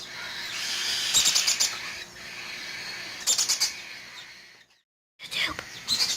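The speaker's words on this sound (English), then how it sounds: "Blueberry is a violaceous Turaco" A violaceous turaco kept as a pet calls in three short bursts of quick, bright chirps, close by, separated by quiet gaps, with soft voices murmuring faintly underneath.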